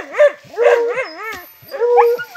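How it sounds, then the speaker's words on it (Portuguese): Hunting dog barking and yelping at a burrow during a paca hunt in the countryside, several close, loud, wavering yips and howling barks in quick succession with short gaps between them. "Cachorro achou um bicho aqui. O cachorro tá chamando lá."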